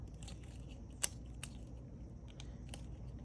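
A roll of glitter tape being handled at close range, quiet plastic crinkles and sharp snapping ticks scattered over a faint room hum, one brief crisp click standing out.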